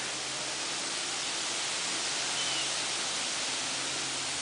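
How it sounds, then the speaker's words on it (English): Steady wind rushing through rustling aspen leaves in a Wisconsin woodland, a continuous broad hiss with no distinct events or voices. "You hear that wind? The leaves? Those are my aspen."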